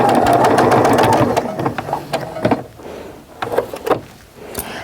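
Home sewing machine stitching a Valentine's mug rug quilt, a fast loud whirring run that breaks into short stop-start bursts of stitching, close by.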